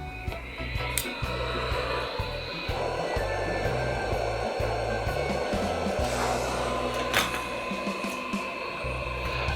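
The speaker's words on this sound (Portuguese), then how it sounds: "Eu vou usar o soprador térmico para fazer a remoção" Hot air rework station heat gun blowing steadily while desoldering a capacitor from a projector circuit board, a continuous airy whoosh with a pulsing low fan hum, close and alone.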